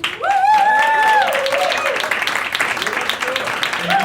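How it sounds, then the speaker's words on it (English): Applause from an audience at a Sunday evening hackathon gathering rises and carries on at full volume, while a voice is heard over the clapping near the start. "I want everybody to give yourself a hand of applause for being here on a Sunday evening."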